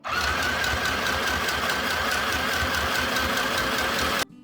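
Sewing machine stitching a strap for a grocery bag tote, a close, steady rapid mechanical chatter and hum running continuously before stopping abruptly.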